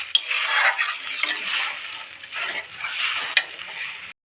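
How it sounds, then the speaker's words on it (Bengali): Water poured into hot oil in a cooking pan, a loud close sizzle in repeated surges with clinks of a utensil, cutting off abruptly at the end. "এবার আমি জল দিয়ে দিলাম"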